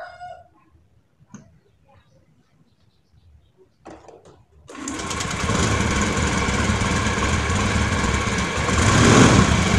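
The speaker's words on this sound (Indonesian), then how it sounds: "Kemudian nyalakan mesinnya." After a few quiet seconds of faint clatter, a fuel-injected motorcycle engine fitted with an LPG-petrol hybrid converter kit starts and settles into a loud, steady, rumbling idle that continues to the end.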